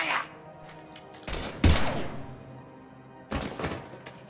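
Gunfire in the Mass Effect 3 video game comes as two heavy, booming bursts of shots separated by a short pause, with a muffled thud between them.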